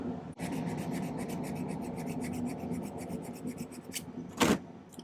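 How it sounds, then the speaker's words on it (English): A metal file rasps against the inside of a silver ring to remove excess solder, a quick rhythmic series of close scraping strokes ending in one harder, louder rasp, with no speech. "Clean up any excess solder on the inside."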